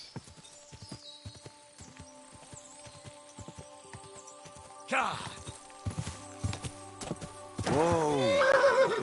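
In the medieval game Kingdom Come: Deliverance, a horse's hooves clip-clop in a steady walking rhythm over a low game hum, and then a loud whinny rings out near the end.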